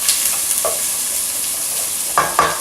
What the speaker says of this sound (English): throw your food into your pan and it sizzles